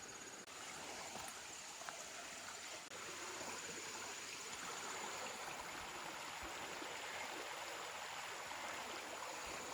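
Pickle Creek water rushing steadily over rocks in Hawn State Park, a continuous broadband roar that stays close and loud throughout with no voices.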